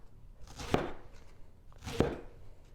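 Knife chopping onions without a cutting board, two distinct close chops spaced about a second apart over faint background noise.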